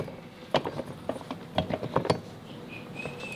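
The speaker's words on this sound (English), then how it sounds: "grab your flywheel, drop it on there" A billet flywheel being set onto the keyed crankshaft of a Predator 212cc engine gives a few close metallic clanks and taps in a short cluster, with no talking.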